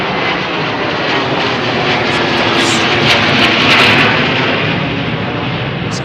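A Gulfstream jet passes near an Anchorage airfield, a loud, sustained roar that fills the full six seconds and swells slightly toward the middle, with no talk over it.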